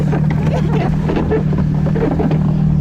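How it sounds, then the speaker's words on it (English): Snowmobile riding along a remote snowy road in far-north Russia, its engine a steady loud drone with strong wind buffeting throughout and no clear speech. "We're riding on a freaking snowmobile on the edges of the world."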